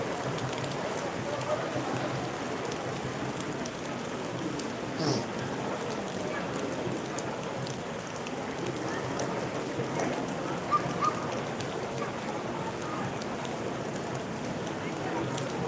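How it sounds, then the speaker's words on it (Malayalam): Light rain falls steadily during preparations for the Chambakkara Meenabharani festival, a soft, even hiss throughout, with faint distant background sounds mixed in. "ചെറിയ ലൈറ്റ് മഴ"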